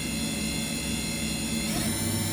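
The spindle of a 2012 Haas VM-6 five-axis vertical machining center spins at 4,000 RPM, giving a steady, loud whine with dense tonal layers that shift slightly near the end.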